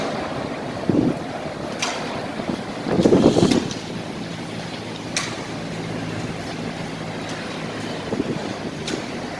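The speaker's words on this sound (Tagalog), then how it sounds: "Lakas na hangin. May kasamang ulan." Strong wind with rain after a sandstorm at a workshop in the UAE: a steady roaring rush of gusting air with wind buffeting the microphone, swelling in a few louder gusts over a low constant hum.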